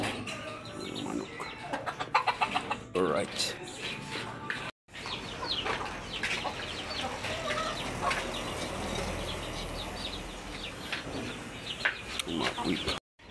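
Chickens cluck and chatter in a farmyard, repeated short calls scattered throughout at moderate distance, with a person speaking briefly amid the birds.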